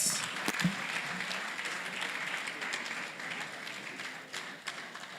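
A room of students clapping at a meetup with animation professionals, continuous moderately loud applause with a few distinct close claps near the start, lasting about five seconds.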